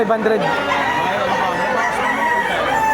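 A Cuban Tiger rooster at a Batangas poultry market sounds amid a dense, noisy crowd of clucking and crowing fowl, with voices mixed into the steady background din.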